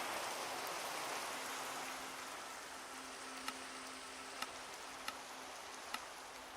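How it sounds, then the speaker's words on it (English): Rain falls steadily as a dense, soft hiss in Minecraft VR, with a few sharp faint ticks toward the end over the constant wash. "And this rain is really loud."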